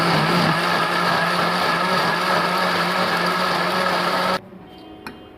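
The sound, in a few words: mixer grinder grinding chili garlic tomato ketchup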